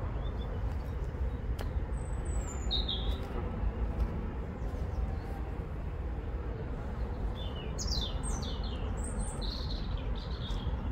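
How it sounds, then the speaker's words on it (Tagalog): Birds chirp and call outdoors in a green, breezy rural spot, with scattered high tweets standing out, most clearly near the end, over a steady low wind and ambient rumble. "ang daming ibon doon"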